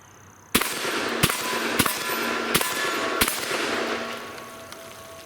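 Five sharp, loud shotgun blasts from a Fusion Firearms Bull Prime shotgun firing Federal 7.5 birdshot, spaced about every 0.6 seconds, each with a ringing tail that fades out at the end.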